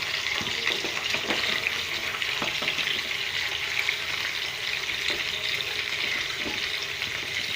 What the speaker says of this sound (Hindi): चिकन असांजो फ्राई थिए पियो।